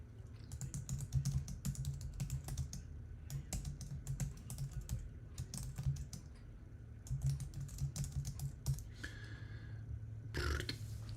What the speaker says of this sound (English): Let me type something in here.